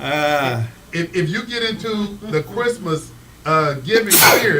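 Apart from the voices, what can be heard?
sneeze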